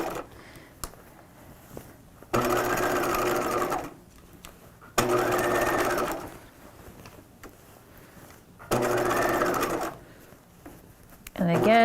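Short runs of a sewing machine stitching the tight underarm of a 1950s shelf bust dress, three whirring bursts of a couple of seconds each, with someone talking in the gaps and over the stitching.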